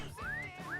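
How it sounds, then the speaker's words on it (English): A person gives a short, quiet whistle: a clear tone that glides upward and then starts a second rising note, over faint background sound. "Yeah, I'll whistle at you."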